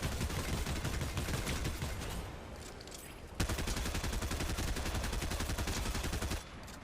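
Continuous rapid gunfire with heavy recoil in Fortnite Chapter 4, dense automatic shooting that runs nearly without pause, with one brief gap and a louder burst partway through.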